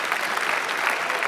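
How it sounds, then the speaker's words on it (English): An audience applauds a guest at a Get in the Ring Netherlands startup event, a steady wash of clapping that fills the whole short moment without a break. "Thank you, a round of applause."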